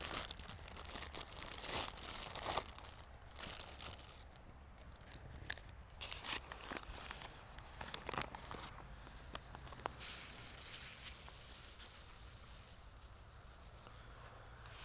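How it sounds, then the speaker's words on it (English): Ziploc bag being prepared with granulated sugar and cinnamon for an apple cake, quiet plastic crinkling, rustling and scattered sharp taps and rubs, close and intermittent. "prepare a Ziploc bag with some granulated sugar and some cinnamon"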